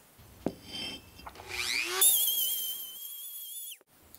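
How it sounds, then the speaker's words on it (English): A small Dremel rotary tool grinds hard material on a cast iron anvil, a close whining grind that rises in pitch, holds as a thin steady whine, then cuts off, preceded by a few short scraping touches. "Here we are using a little Dremel at home, trying to remove some of that hard material."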